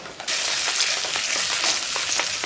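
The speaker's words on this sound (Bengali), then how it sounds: "লবণ, মশলাটা ভালোভাবে কষাই নিতে আছি, দেশি কই মাছ ভুনা করব।" Ground spices and salt fry hard in hot oil for a spicy native koi fish curry, a loud steady sizzle starting abruptly and hissing continuously with faint stirring scrapes.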